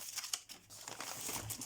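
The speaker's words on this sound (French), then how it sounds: "Je vais prendre un papier blanc comme ça, on verra mieux." Close crinkling and rustling as a plain white sheet of paper is handled and shifted, a dense papery crackle running throughout with no speech over it.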